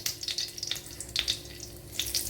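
Crushed cloves, cinnamon and cardamom sizzling in two tablespoons of hot coconut oil, a close, crackly bubbling that comes in short bright bursts, with no talk over it.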